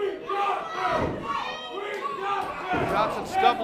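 Crowd at an independent wrestling show cheering and shouting to rally a downed wrestler, Jermaine Johnson, with bursts of yelling voices rising and falling in waves, fairly close.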